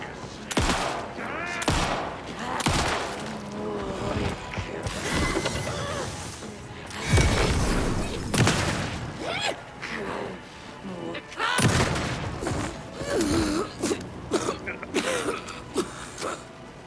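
Gunfire in the horror game Alan Wake II comes as several loud, sharp shots and bursts spread across the stretch, mixed with in-game crashes and mechanical noises and heard under a player's speech.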